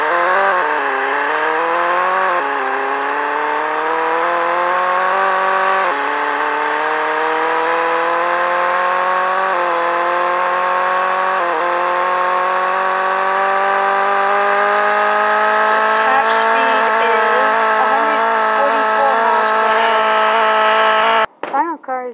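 A Mini Cooper engine in a video game revs up through repeated gear changes during a speed test, each rising whine dropping and climbing again, loud and close, ending with a brief cut-off.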